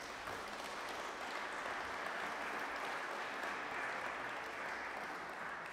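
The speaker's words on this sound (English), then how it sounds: "A round of applause for our speakers" A conference audience applauds the session's speakers with steady, even clapping from a sizeable room, moderately distant and sustained throughout without a break.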